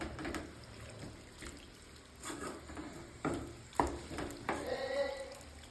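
Clam meat curry fries in a pan and is stirred, a quiet sizzle with bursts of scraping and wet bubbling that swell toward the end, with no talk.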